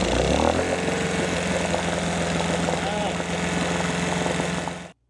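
An outboard motor, freshly fitted with a replacement water pump, runs steadily at a loud, even idle for about five seconds before cutting off abruptly.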